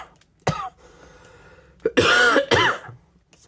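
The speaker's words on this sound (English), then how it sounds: "I wish this cough would go away" A woman coughs several times indoors while doing a diamond painting craft, a short sharp cough early on, then a cluster of harsher, louder hacking coughs close to the microphone, with quiet between them.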